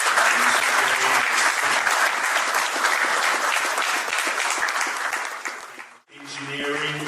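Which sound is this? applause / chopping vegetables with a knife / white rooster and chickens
applause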